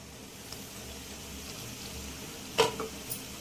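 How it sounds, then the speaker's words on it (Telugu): Country chicken fries in a covered pan, a faint, steady low sizzle with a few sharper crackles and pops clustered near the end. "మూత పెట్టి మళ్ళీ ఒక 10 నిమిషాల దాకా వేపుకుందాం."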